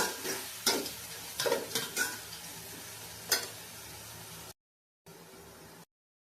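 Shrimp with turmeric sautéing in a pan, a soft sizzle under several sharp spatula scrapes and clinks in quick succession, then a brief gap before the frying resumes quietly.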